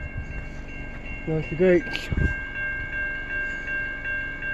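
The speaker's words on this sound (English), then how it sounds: "Amtrak by Emmett, Michigan." An Amtrak passenger train passes near Emmett, Michigan, making a steady rumble with sustained tonal hum. A short spoken remark and a few sharp sounds stand out briefly near the middle.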